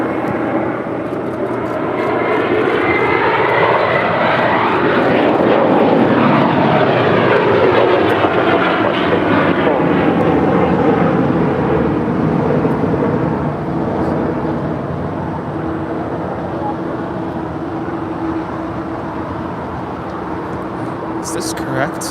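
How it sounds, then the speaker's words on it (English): A Bombardier Global 7500 business jet departing LAX, its steady broadband engine roar holding loud throughout with a slowly shifting whine, and a few voices faintly audible beneath. "Bombardier Global 7500 departing to Sydney."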